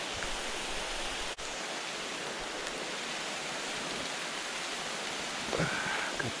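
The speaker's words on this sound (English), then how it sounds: "Wait for this rain to pass." Rain falls outdoors on a hunting trail, making a soft, even, continuous hiss with one brief click partway through. No voices are heard.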